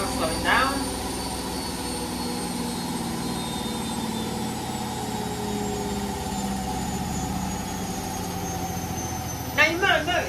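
A washing machine winds down from a 1350 RPM spin cycle with a steady hum and a high whine that slowly drop, and brief voices come at the start and end.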